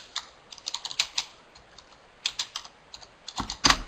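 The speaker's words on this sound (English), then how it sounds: "I'm typing that in." Close, crisp clicks on a computer keyboard come in short irregular bursts with brief pauses, ending in a quick flurry of keystrokes.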